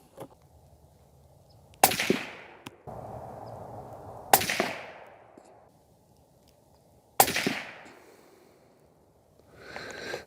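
Three loud rifle shots fire Hornady Black 75 grain ammunition outdoors, spaced a few seconds apart. Each is a sharp crack with a trailing echo over a low steady background hum.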